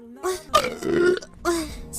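A woman lets out a loud, drawn-out burp followed by a second shorter one, close and prominent, with voiced tones interspersed.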